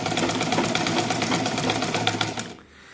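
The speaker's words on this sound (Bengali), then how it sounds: "লুজ দেওয়ার পর এখন যদি আমরা সেলাই করি" A Butterfly or Singer sewing machine stitching after the thread tension has been loosened, with a fast, even mechanical rattle running steadily up close for about two and a half seconds before it stops abruptly.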